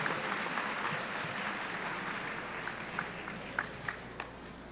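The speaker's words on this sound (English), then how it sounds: "we have a nice round of applause for the 2013 summa cum laude winners." High school yearbook ceremony audience applauding summa cum laude winners, a steady wash of clapping from a crowd with a few sharper claps standing out near the end.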